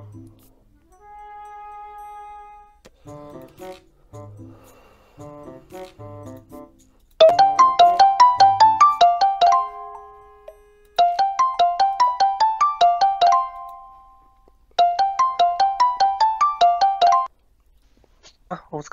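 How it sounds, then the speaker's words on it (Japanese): A phone call ringing out in repeated electronic bursts of trilling tone with pauses between them, loud and close, after a few softer synth notes at the start. "レクチに電話してみよう"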